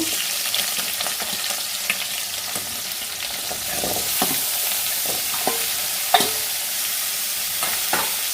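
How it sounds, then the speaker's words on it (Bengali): Potatoes sizzle in hot oil for a Bengali aloo posto, a continuous loud frying hiss with scattered pops and occasional stirring clinks, close up and steady throughout, with no voices. "তেলটা দেখো গরম হয়ে গেছে এর মধ্যে আলুগুলো দিয়ে দেব"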